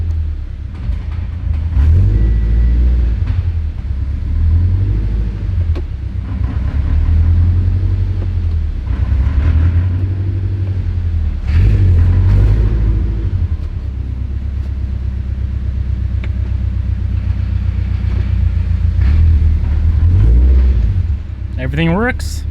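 A turbocharged Scion FR-S engine accelerating in first gear, a loud close low rumble that rises and swells in waves as it revs, with a person talking briefly.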